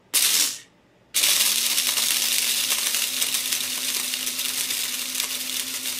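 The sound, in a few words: corn popping in an electric popcorn popper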